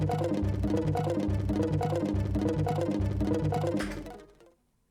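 Raw, hypnotic techno sequence built with Ableton's Granulator 2 and a Max for Live Snake sequencer: a loud, dense looping pattern with steady kick pulses and busy mid-range texture, playing continuously for about four seconds before fading to silence.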